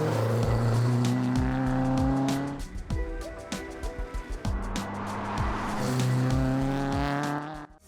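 A Noble M12 GTO3R sports car driven hard on a twisty road, engine note climbing through repeated gear changes with sharp shifts and lifts, loud and close throughout.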